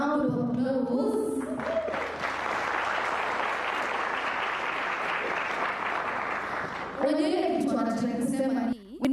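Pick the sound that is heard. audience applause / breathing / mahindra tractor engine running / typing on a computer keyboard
audience applause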